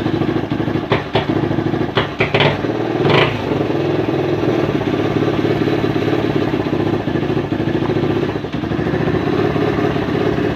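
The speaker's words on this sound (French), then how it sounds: "J'embraye et elle accélère. On va réduire un peu les gaz." A Suzuki 125 motorcycle engine runs steadily close by, a continuous loud drone with a few sharp clatters early on and slight rises and falls in pitch as the throttle is eased, with no talking.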